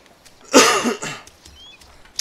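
A single harsh, chesty cough from someone with a cold, close and loud, followed by a smaller throaty catch and quiet breathing.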